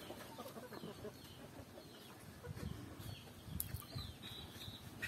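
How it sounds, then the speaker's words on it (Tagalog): Chickens kept in coops in the countryside cluck softly amid a busy outdoor background, with scattered faint clucks and bird calls, not close or loud. "Daming alaga nilang manok"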